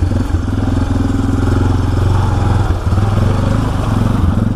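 A Honda Fourtrax 300 ATV engine running steadily after a snorkel test, a loud, close, chugging idle with a brief dip near the end.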